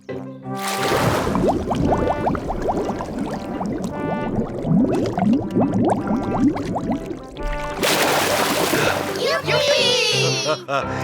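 Cartoon splash as a character dives underwater in an animated children's show: a burst of splashing and bubbling water at the start and again near the end, with lively character voices talking over the middle.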